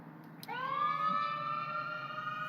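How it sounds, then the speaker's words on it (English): An ambulance siren starts abruptly and holds a loud, steady wailing tone close by, rising slightly at onset and then sustaining over a low background rumble of a road setting. "That's an ambulance."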